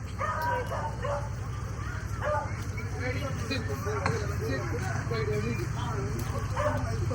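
Several dogs, including German Shepherds and Golden Retrievers, bark and yip at a busy outdoor dog show in Thrissur, steady crowd chatter and noise running underneath the whole time.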